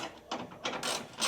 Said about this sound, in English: I'm gonna pull this bolt